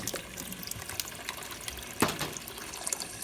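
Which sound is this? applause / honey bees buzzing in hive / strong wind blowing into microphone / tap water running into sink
tap water running into sink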